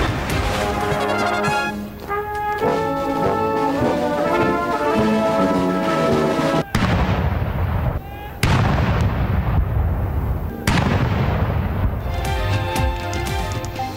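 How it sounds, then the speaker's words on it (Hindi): A British Army artillery cannon salute for a royal birthday booms repeatedly, loud sharp blasts with rolling echoes spaced a few seconds apart, layered over a musical news soundtrack. "बरतानवी फौज ने प्रिंस चार्ल्स को 70वीं सालगिरह की मुबारकबाद तोपों की सलामी से दी।"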